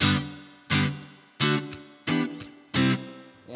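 Five evenly spaced electric guitar chords ring through a Boss RV-500 pedal on a simple reverb setting, each struck loud and decaying into a smooth wash before the next.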